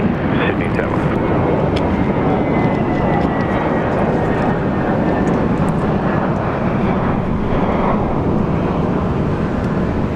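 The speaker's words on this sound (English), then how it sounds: "Look at this beautiful turn, Jetstar." A Jetstar airliner turning at Sydney Airport on a hot day, a steady, loud broadband jet roar with wind buffeting the microphone, constant throughout.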